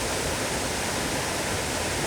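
Achankallu waterfall in Kasaragod during the monsoon, a loud, unbroken roar of rushing water heard up close, broadband and steady for the whole brief moment, with no one speaking.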